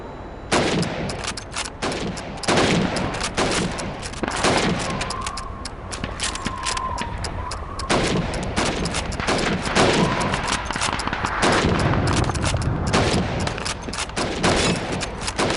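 Rapid rifle fire from timed helmet-shooting target practice in the video game Call of Duty 2, with many sharp shots cracking in quick succession across the whole stretch, loud and close.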